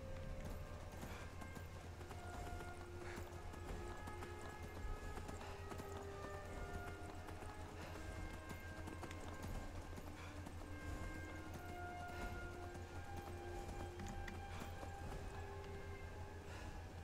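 Horse hooves clip-clop at a steady walking rhythm throughout a Skyrim game scene, moderately close, with quiet ambient game sounds behind.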